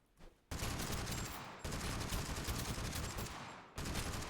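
An automatic weapon fires in Totally Accurate Battlegrounds in long, loud, sustained bursts that sound close. The bursts are broken by short pauses, and nobody speaks.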